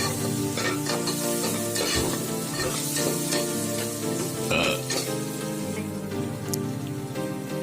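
A spoon stirs sambar rice mixture in a hot cooking pan with green chillies added, scraping and clattering in irregular strokes over a constant sizzle.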